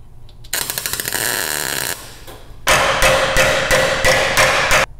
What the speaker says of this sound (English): It may be necessary to use a pair of channel locks or a hammer to form the plate